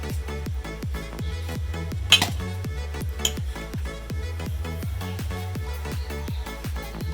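A spoon beats egg bajji batter of rice flour, turmeric, salt and asafoetida in a bowl, tapping the rim in a fast, even rhythm of close clinks, with a couple of sharper knocks and no talking.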